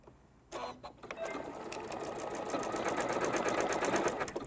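A domestic sewing machine runs steadily, its rapid needle-driven clatter rising after a few short starts into a continuous, even whir of stitches, close and alone.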